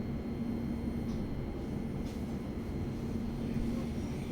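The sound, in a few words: Thameslink passenger train at Otford station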